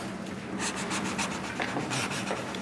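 A felt-tip marker drags over paper while decrees are signed, with steady close rubbing strokes and a few sharper scratchy flicks near the end, no voices present.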